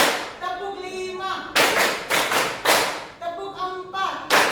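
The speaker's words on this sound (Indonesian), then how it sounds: "Ya, kita tepuk semangat ya, supaya bisa membakar semangat kalian." Students clap in rhythm during a teacher-led 'tepuk semangat' clapping game, producing loud group bursts of several claps each, with a chanting voice between the sets.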